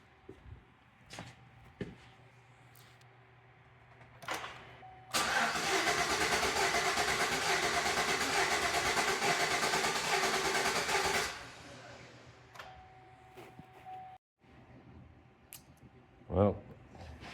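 A 2011 Chevy Tahoe engine starts and runs loudly and unevenly for about six seconds close by, then cuts off, with brief knocks and handling noises around it.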